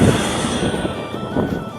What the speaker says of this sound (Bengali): সেই বড় একদম রেলটা, তামাম বড় রেল। এই রেলের মধ্যে তেল নিয়ে গেতেছি,